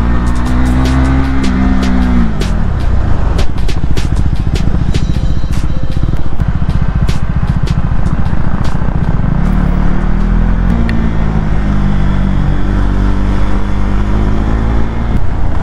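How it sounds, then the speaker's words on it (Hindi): Motorcycles ride and overtake on a mountain road between Joshimath and Chamoli, with loud, close engine drone that swells and shifts in pitch as the bikes accelerate past. "उत्तम भाई निकल चुके हैं आगे और अब हार्दिक भाई की बारी है और फिर गाइस उसके बाद मैं करूंगा ओवरटेक"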